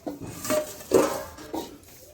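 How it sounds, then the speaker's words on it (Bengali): A few irregular knife knocks come from potatoes being cut for cooking in a home kitchen, quiet and widely spaced, with soft clatter between them. "আলু টালু কাটা হচ্ছে রান্নার জন্য"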